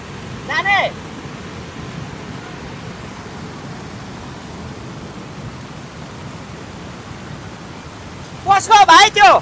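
Swollen stream in Dharan roaring after an hour of torrential rain, a steady broadband rush of water filling the scene throughout, with brief voices breaking in near the start and again at the end.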